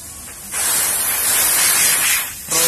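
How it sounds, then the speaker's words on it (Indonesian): A loud, close blast of compressed air hisses steadily for about two seconds, cleaning a car AC filter on a Toyota Alphard, then briefly cuts off and starts again. "Kita bersihkan filternya ini pakai angin."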